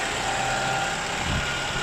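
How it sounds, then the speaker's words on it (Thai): A Toyota Camry Hybrid engine starts and hums at a steady, low idle, close by and continuous with no voices. "เครื่องยนต์สตาร์ทติดขึ้นมา"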